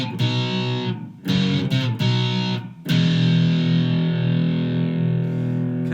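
Distorted electric guitar playing a riff: heavy, chorus-tinged chords in short bursts with brief gaps, then a long sustained ringing chord, loud and close with no talking.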